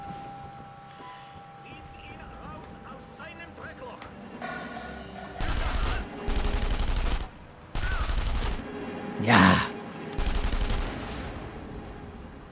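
Several loud bursts of rapid gunfire in a PS3 video game, separated by short pauses, with a sharper blast near the end; a voice speaks briefly beneath.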